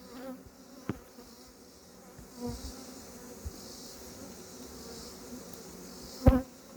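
Honeybees buzz steadily around an open beehive, a close, continuous drone with a few soft knocks and one sharper bump near the end.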